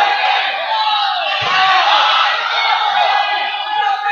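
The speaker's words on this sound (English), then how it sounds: "Rustin benches up, cheering on their big guy." A home high school wrestling crowd in a gym, with the bench on its feet, roars and whoops for their heavyweight as the match closes, a loud, dense, unbroken wall of cheering.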